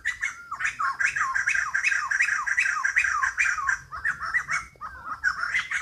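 A loud bird repeats harsh, squawking calls in a quick steady series, close by in forest near Kathmandu, Nepal, with a short break before the calls resume.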